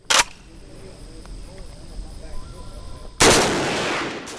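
Gunfire at a Texas shooting range: two loud, sharp shots, one near the start and one about three seconds later whose blast rings on and decays slowly, with quiet ambient noise in between.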